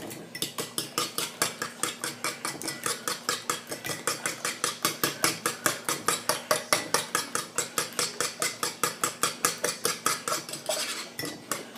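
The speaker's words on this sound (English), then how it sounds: "I'm going to add about a teaspoon of milk. And whisk that." Milk being whisked into eggs for French toast, a fast steady metallic clinking of a whisk against a bowl, close and continuous with a regular rhythm and no talking.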